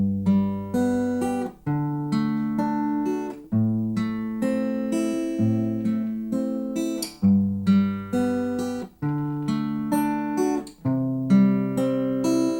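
Acoustic guitar fingerpicked through the full chord progression of a song, with a steady repeating pattern of plucked notes and brief breaks at the chord changes, played solo and up close.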